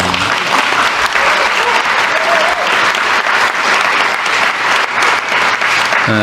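An audience at a Korean government research-and-development policy meeting bursts into loud, sustained applause, dense clapping that carries on for several seconds.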